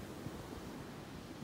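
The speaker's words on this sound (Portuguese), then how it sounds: "mais agitado o mar fica" Rough, storm-driven sea waves at Tucuns beach in Búzios, Rio de Janeiro, make a steady, fairly soft broadband roar of surf with faint wind mixed in, no voices.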